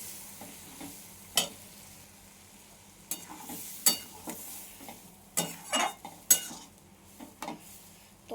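A hot tarka fries and spatters in a pan, heard as sharp, intermittent pops and crackles over a soft sizzle, with occasional utensil clinks.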